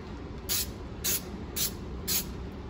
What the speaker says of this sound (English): we're just gonna add a little nonstick to it